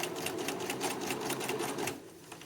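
A sewing machine stitches a jacket undercollar in a fast, close, rhythmic run of needle taps that stops near the end, with no talk.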